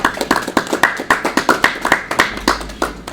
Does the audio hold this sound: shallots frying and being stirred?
no